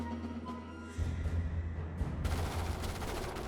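Shotguns firing in the sci-fi strategy game Starship Troopers: Terran Command, a rapid, loud volley of overlapping shots that starts after a quieter moment and swells into a dense barrage of gunfire.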